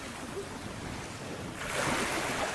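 Sea waves on the shore on a nearly calm day, a soft steady wash that swells louder halfway through as a wave breaks, fairly faint.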